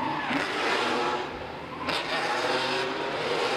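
Drift car in a D1NZ pro drift qualifying run at Baypark Stadium, engine revving hard as it powers out of the first turn, loud and continuous with a brief dip mid-run and faint tire noise.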